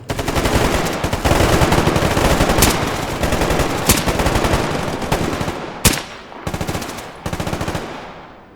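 Automatic weapon fire in the video game Stalker Gamma sounds as sustained, loud bursts of rapid shots with short gaps and a few sharper single cracks, heard alone without talk.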